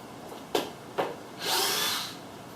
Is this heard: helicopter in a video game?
no